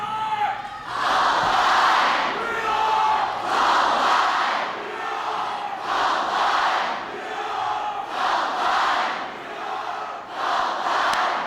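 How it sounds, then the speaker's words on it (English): A large crowd at a Columbine High School community gathering cheers and shouts in loud rhythmic bursts, roughly every two seconds, sustained throughout without pause. "Do that cheer for me one more time."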